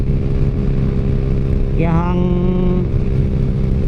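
Raider J115 Fi motorcycle with a loud aftermarket exhaust, a steady rumbling idle that jumps into a sharp rev and falls back, close up, with someone talking over it.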